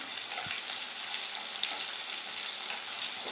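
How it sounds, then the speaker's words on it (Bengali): Ground spices frying in a pan for a vegetarian cabbage curry, with a soft, continuous sizzle and faint scraping at low volume and no voices. "ভালো করে মশলা কষিয়ে নেব।"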